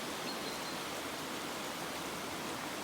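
Water pours out of salmon spawning channels on the south side of a river, spilling over small waterfalls as a steady, dense, unbroken rushing wash, moderately close and without pause.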